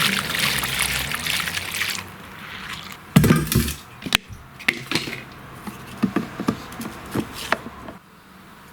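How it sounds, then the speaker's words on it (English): Gasoline poured into a lawnmower's fuel tank, with a steady liquid trickle at first, then irregular splashes and glugs as the flow stops and starts, fairly close and quiet. "Now I'm going to put some gas in here."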